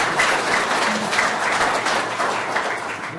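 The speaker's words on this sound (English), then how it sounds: "we can give a round of applause to all of our" Audience at a city council meeting breaks into applause, a steady, fairly loud patter of many hands clapping together for a few seconds before beginning to thin out.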